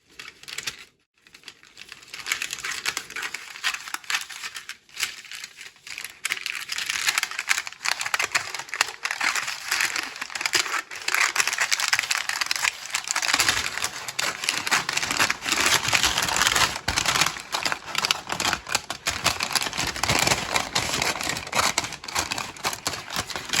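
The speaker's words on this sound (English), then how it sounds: "Now I'm going to start cutting it up with my scissors." Scissors cutting through a paper outline in steady, dense snipping and crinkling, close and continuous throughout, with no voices.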